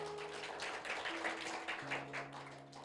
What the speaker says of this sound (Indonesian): tepuk tangan dong buat Tuhan kita